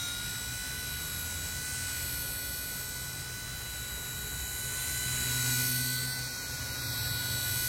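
A small remote-control helicopter flies nearby, giving off a steady, high-pitched motor and rotor whine that swells slightly midway, with no talking.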